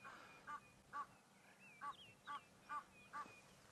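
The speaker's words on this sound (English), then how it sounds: "Some Egyptian geese making a bit of a racket, making a bit of noise about the presence of the leopard" Egyptian geese at a dam honk in a steady series of six loud, evenly spaced calls from moderately close, with softer bird calls and quiet bush ambience between them.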